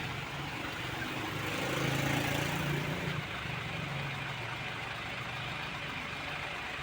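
Slow traffic from Gumaca, Quezon heading to Manila: engines idling and rumbling nearby, a heavier vehicle swelling louder for a second or two before settling back to a constant drone.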